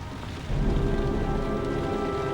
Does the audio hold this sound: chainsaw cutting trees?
no